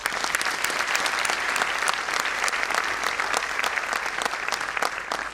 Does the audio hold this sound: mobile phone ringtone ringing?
no